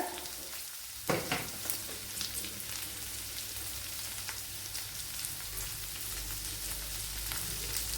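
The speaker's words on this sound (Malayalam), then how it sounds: "ഇനി സവാള ഇട്ട് കൊടുക്കുക." A large chopped onion dropped into hot oil in a pan, a brief clatter followed by a continuous, fairly loud sizzle and crackle that holds steady throughout, with no voices.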